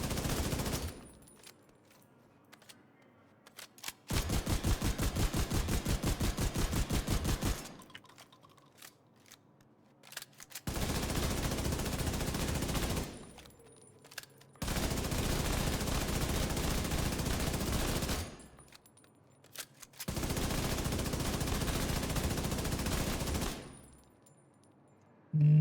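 Video game gunfire aimed at headshots, in four long bursts of rapid automatic shots with short silent gaps between them, fairly close and loud.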